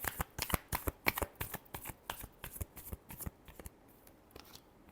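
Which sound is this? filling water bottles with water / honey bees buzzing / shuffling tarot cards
shuffling tarot cards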